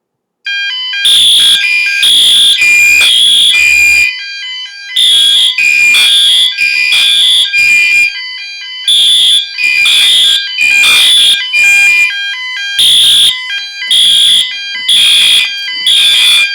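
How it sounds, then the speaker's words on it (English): Interlinked smoke detector fire alarm set off with test smoke, blaring a loud, piercing electronic tone in repeated bursts and pulses with short gaps, close and dominant throughout. "I think we will activate this ESL smoke detector with some smoke"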